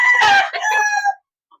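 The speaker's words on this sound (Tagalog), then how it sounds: "ayun yung inahin." A breeding hen gives one loud, close cackling call lasting about a second, standing alone before brief silence.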